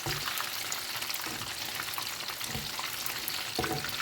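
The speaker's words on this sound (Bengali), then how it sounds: "মাছটা যে গোল্ডেন ব্রাউন করে ভেজে নিচ্ছি" Fish cutlets sizzle steadily as they fry in hot oil until golden brown and crispy, a dense, constant crackle close up with faint stirring or shifting of the pieces in the pan.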